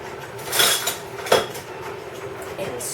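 A whisk picked out from among kitchen utensils while making spicy peach salsa jam, producing a brief burst of metallic rattling and clinking, close and fairly loud, followed by quieter handling.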